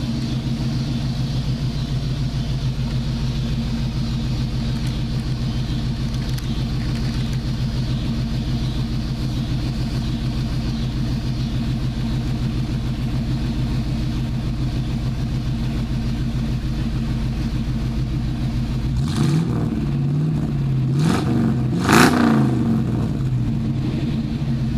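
A car fitted with a glass pack exhaust idles with a steady, deep, throbbing rumble for a long stretch, then barks through a few quick, loud revs near the end, with no talking.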